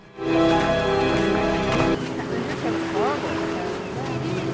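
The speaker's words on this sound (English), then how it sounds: "I think that ship is heading towards us." A ship's deep, humming drone sounds loud for about two seconds, then fades under wind and a few people talking nearby.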